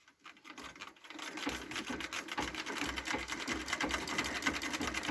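Foot-pumped treadle sewing machine stitching steadily, a fast rhythmic clatter that starts after a brief pause and runs continuously, close and fairly loud with no talking.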